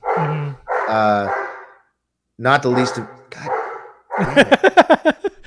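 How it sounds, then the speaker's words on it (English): A dog barks and yips several times close by, ending in a rapid burst of barks, mixed with someone talking. "Every time we go to record, he's ready to just start barking."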